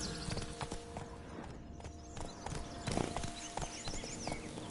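Roach, a horse in The Witcher video game, runs with quick rhythmic hoof clip-clops over game ambience and music, moderately loud and continuous through the short stretch.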